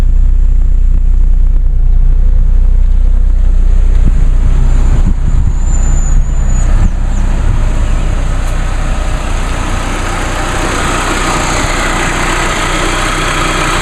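Supercharged 2006 Chevrolet Cobalt SS engine idling smoothly with a low, steady rumble and a faint high whine on top, close and constant with only slight variation, no voices.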